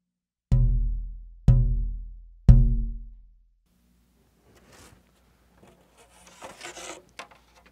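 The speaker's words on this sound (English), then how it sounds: "is the sound of the double top plate." Three evenly spaced tap tones on a guitar double top soundboard plate ring out with a woody resonance and short decay, followed by faint rubbing and handling noises.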